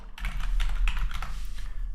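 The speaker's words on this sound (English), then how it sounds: "we are going to be typing in payment" Rapid typing on a computer keyboard during dashboard design work in Adobe XD, a steady stream of close, crisp key clicks lasting throughout with no voices.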